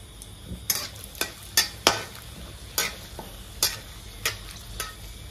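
Bay leaves and five dried red chillies frying in oil, with a soft sizzle under a series of sharp spoon-against-pan clicks and scrapes in an irregular stirring rhythm, close up with no talking.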